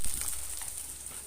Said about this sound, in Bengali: এই পুঁটি মাছটা ভাজা হচ্ছে